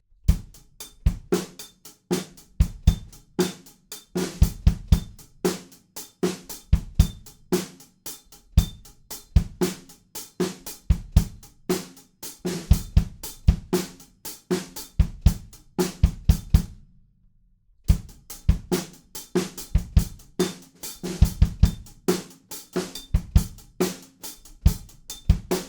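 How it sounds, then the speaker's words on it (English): Drum kit playing a steady 16th-note groove, with kick and snare accents under busy hi-hat, loud and close, with a brief pause in the middle. "And then we're into a 16th note groove that sounds like this."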